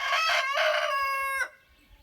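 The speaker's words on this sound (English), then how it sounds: "One of my friends wanted me to record my chickens crowing." A rooster crows once, loud and close, a long harmonic call that breaks off abruptly, followed by quiet background.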